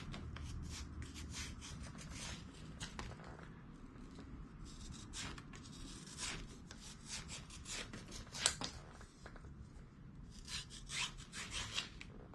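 Steady rasping, rubbing strokes of a hand tool shaping the edge of a wooden kayak deck on a 12-foot Wood Duck hybrid, continuous and close with a few sharper scrapes, no talking.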